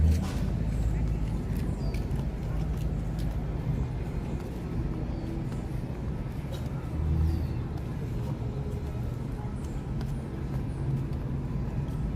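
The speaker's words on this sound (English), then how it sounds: "So lots of buses here" Buses and traffic idling and rolling past at the Disneyland Resort in California: a continuous low engine rumble with a brief swell midway, moderately near, under scattered outdoor background noise.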